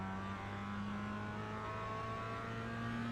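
A Mazda MX-5 race car engine at full throttle in iRacing on the Tsukuba circuit, a steady droning mid-pitched engine tone slowly rising in pitch, continuous and fairly quiet with no voices.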